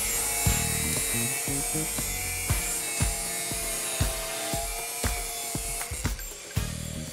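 A thin 1.6 mm cut-off wheel slices through 25 mm steel tubing, giving a steady high, bright grinding whine with a low motor hum underneath and repeated sharp clicks and knocks, close and loud with no talking.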